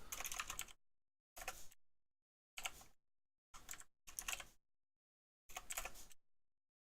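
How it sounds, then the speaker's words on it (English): Bursts of typing on a computer keyboard while entering special characters, with six short clusters of rapid key clicks separated by silent pauses, close and clear with no talking. "A little awkward to type these special characters correctly."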